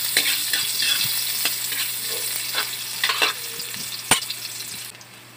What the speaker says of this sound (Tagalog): sibuyas saka bawang. Pa-brownin natin yung kunti.